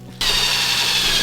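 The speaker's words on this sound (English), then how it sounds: "That's how you get the rest of the screws in." A power drill drives a screw into a car bodykit panel on a Nissan S15, kicking in abruptly with a loud, close, continuous whir.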